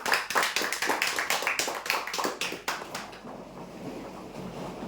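A crowd applauds loudly at a prize-draw event as a winner is announced, with dense, steady clapping for about three seconds before it thins out and fades into room noise.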